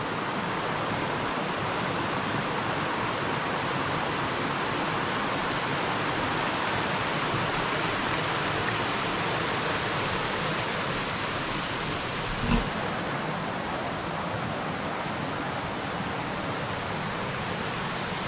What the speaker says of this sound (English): We have a little waterfall in here.